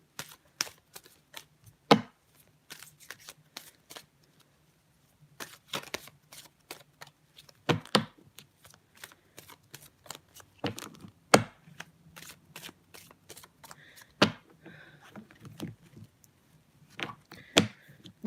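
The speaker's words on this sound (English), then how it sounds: "I'm going to shuffle 3 piles," Three piles of playing cards are shuffled in turn, giving sharp riffling bursts and snaps spaced irregularly across a quiet room, close and fairly loud, with no speech.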